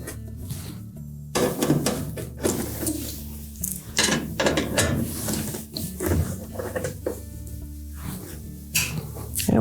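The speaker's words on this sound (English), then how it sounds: "Now we'll remove the back cover, and it's held with just 1/4-inch sheet metal screws" A driver backs out the 1/4-inch sheet metal screws holding the back cover of a Whirlpool washer. The result is a loud, close, continuous whirring buzz with repeated clicks and clatter against the metal panel.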